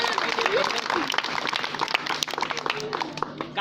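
Applause welcoming Chandel Sahab at a village clothes distribution event held by Chandel Inter College, a steady crowd clapping that fills the whole stretch, close and fairly loud, with voices mixed in.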